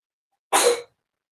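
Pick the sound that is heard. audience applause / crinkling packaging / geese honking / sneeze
sneeze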